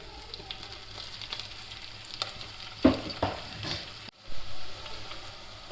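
Turmeric and green chilies frying in hot oil while chicken is cooked in a home kitchen, a steady broadband sizzle with a few stirring scrapes and a brief dip near the end, close and moderately loud.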